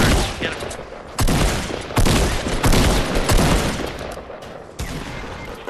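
Fortnite gunfight with loud bursts of rapid gunfire and separate heavy shots, several close volleys in quick succession that fill the whole stretch.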